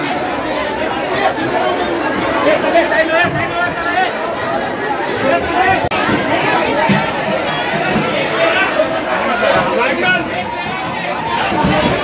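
Loud, unbroken babble of a packed crowd at the Naigaon wholesale fish market during a fish auction, countless voices overlapping nearby with occasional louder shouts rising from the din.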